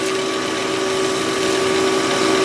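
A wood lathe spins a walnut bowl at about 1,300 RPM during buffing, giving a constant loud motor hum with a steady whine and no pauses.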